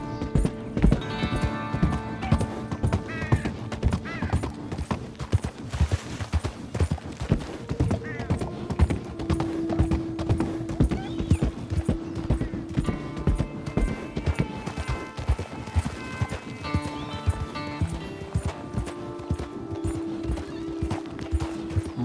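Steady clip-clop of a Morgan horse's hooves with an occasional whinny, set against game music and ambience in Red Dead Redemption 2, continuing throughout.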